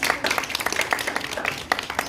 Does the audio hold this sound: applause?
yes